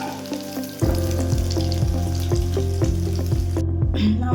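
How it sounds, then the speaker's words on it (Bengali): Batter-coated paneer pieces frying in hot oil, a loud, close bubbling sizzle that swells in after a quiet start and holds steady with faint clinks, ending abruptly. "পনিরটা ভেজে নিচ্ছি।"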